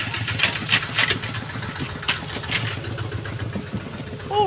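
A motorbike engine runs steadily with a low, even chug while someone rides over rough rural village roads, the putter continuous and fairly close, with occasional knocks and bumps.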